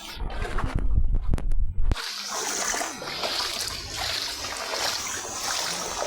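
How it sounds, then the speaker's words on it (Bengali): Splashing and sloshing through floodwater on a rain-flooded road at night, starting with a few loud sharp splashes and then giving way to steady churning water and trickling that carries on throughout. "আমরা পানির ভিতরে হাঁটাহাঁটি করতেছি"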